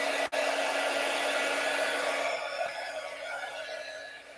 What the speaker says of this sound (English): All right, Howard, heat gun.